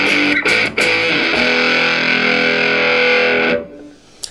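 Electric guitar through a Zvex Probe Vexter fuzz pedal gives a loud, thick fuzzy tone. Picked notes ring out heavily distorted and sustain for several seconds before fading.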